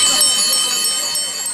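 Many bicycle bells ring together at an outdoor Koningsdag celebration in Brabant, a loud, dense cluster of bright metallic tones with faint crowd voices beneath.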